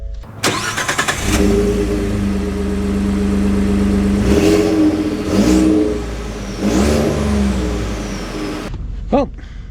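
A high-mileage Ford car engine starts and pulls away, a strong rising whine followed by several separate acceleration surges and gear changes, steady and close, ending with a brief clunk.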